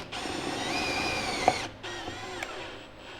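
A power drill drives a self-tapping screw through a seam, a steady high motor whine for about a second and a half, a brief pause, then a second shorter burst, close and fairly loud with no talking.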